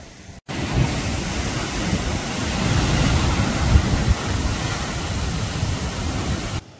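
Ocean surf at Banyu Tibo beach, a broad steady wash of waves with wind buffeting the microphone, starting abruptly after a brief pause and holding at an even, fairly loud level.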